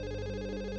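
A telephone rings in a short, steady electronic tone at moderate loudness, with no voices over it.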